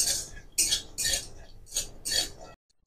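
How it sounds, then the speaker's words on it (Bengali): Jackfruit seeds dry-roasting in a wok stir in short rattling, scraping bursts separated by brief pauses, ending in a moment of silence. "শুকনো খোলায় আমি কাঁঠাল দানাগুলোকে সব ভেজে নিলাম।"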